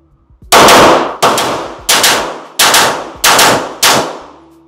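Six loud, close gunshots from a Metrillo Fastidious Monster Edition firearm firing reloaded ammunition, evenly spaced about two-thirds of a second apart, each sharp crack followed by a short decaying tail.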